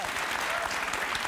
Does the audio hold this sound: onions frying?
no